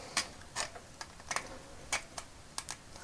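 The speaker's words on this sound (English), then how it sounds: "maybe if I just use a pair of pliers and unscrew it" Pliers work a screw loose from a vintage Denys Fisher Cyborg Cybo-interceptor toy, giving a series of small, close, dry clicks and creaks spaced irregularly, with no talk.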